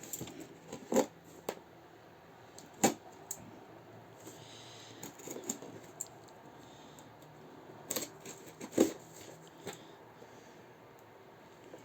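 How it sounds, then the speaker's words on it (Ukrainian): Quiet rustling and handling of a taped parcel of scrap silver being unpacked, with a few sharp clicks and crinkles spaced apart, close by and faint. "І зараз ми з вами його розпакуємо"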